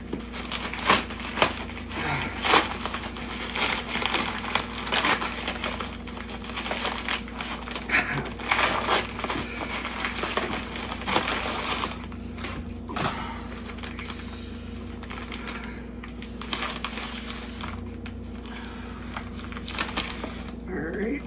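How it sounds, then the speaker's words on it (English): Someone rips open a plastic shipping bag and handles it while unboxing a book, making a long run of crinkling, crackling and tearing noises. A steady low hum sits underneath. "Now I can just rip the bag open and pull out the inner thing here."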